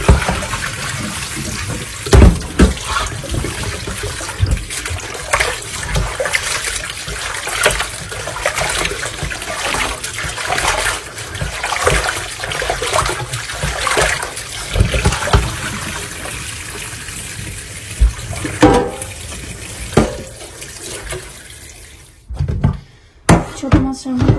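Tap water runs steadily into a kitchen sink as raw sacrificial-festival meat is washed by hand, with splashing and shifting flow throughout, a few louder knocks, and a brief drop near the end before the water resumes.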